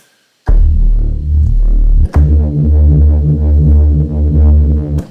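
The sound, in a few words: distortion with high-pass filter before it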